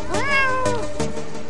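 Game cat from Techno Kitten gives one loud, clear meow with a rising then falling tone, followed by a couple of short chirpy mews, close and alone over faint game sound.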